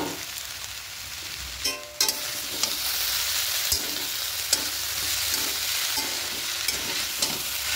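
Red amaranth greens with stalks being stirred in a frying pan, a steady close sizzle with scraping and clacking strokes of the spoon recurring throughout.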